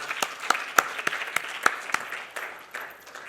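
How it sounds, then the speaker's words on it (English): Audience applause welcoming speakers onto the stage at a literature festival, a handful of crisp individual claps over lighter scattered clapping that gradually thins out and fades, moderately close. "with a huge round of applause, let's welcome them to the stage"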